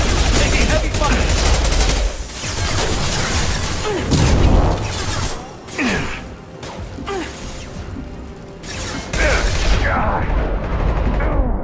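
Dense bursts of gunfire in the Mass Effect 2 video game, loud and continuous, with rapid automatic fire, impacts and whooshes layered together across the whole stretch.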